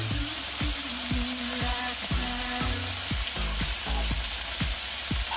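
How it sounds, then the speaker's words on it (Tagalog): US Angus steaks sizzle and fry steadily in a Saladmaster electric skillet, a loud, even crackle with repeated sharp pops and clicks, no voices. "This is how we cook steaks using our Saladmaster electric skillet."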